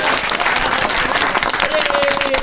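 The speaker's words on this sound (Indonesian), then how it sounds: "Tepuk tangan dulu, tepuk tangan." Loud, dense applause from a podcast studio audience fills the whole moment as continuous close clapping.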